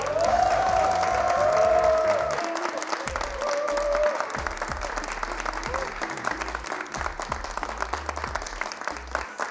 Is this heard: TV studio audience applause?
yes